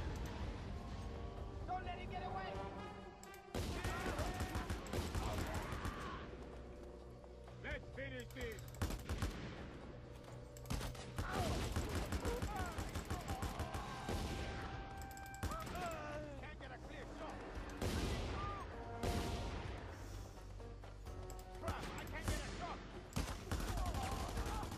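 Just Cause 2 video game gunfire rattles in long rapid bursts, loud and close, with short pauses between volleys and scattered explosions and effects around them.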